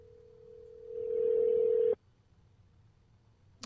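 A single steady telephone tone, loud and sustained for about two seconds before it cuts off abruptly, followed by quiet room noise.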